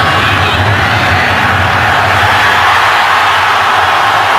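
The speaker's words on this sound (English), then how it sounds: "he gets a huge cheer from the Green Bay 38 officially for Crosby" An NFL stadium crowd at Green Bay cheering for a field goal, a loud, dense, sustained roar of many voices filling the whole space without a break.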